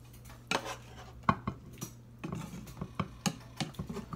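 A cauliflower, chicken and vegetable mixture being spooned into a baking tray, heard as faint, sparse clinks and scrapes of a utensil against the metal tray, with quiet gaps between them.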